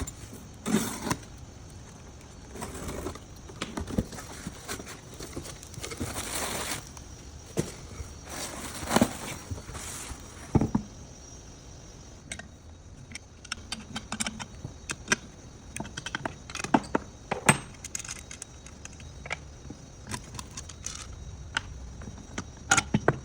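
Box holding a brake booster assembly being opened, heard as scattered close crinkles, clicks and rattles of packaging and parts handled in irregular bursts over a quiet background.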